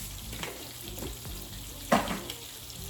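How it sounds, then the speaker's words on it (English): A pot of bouillon on a stove, seasoned with salt, bubbling and sizzling steadily at close range, with a brief louder burst of bubbling partway through. "I'm going to bring this down to a simmer."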